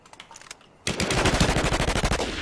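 Rapid automatic gunfire in a free-to-play battle royale game: after a brief quiet stretch, a loud, dense burst of shots rattles on steadily for over a second, close and alone without talk.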